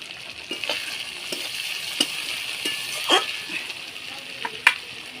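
Turmeric and spices frying in hot oil while cooking bata fish curry, a soft steady sizzle with occasional sharper crackles and pops, close and fairly quiet.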